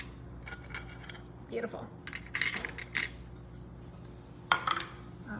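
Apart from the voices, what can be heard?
candy canes dropped onto chocolate in a crock pot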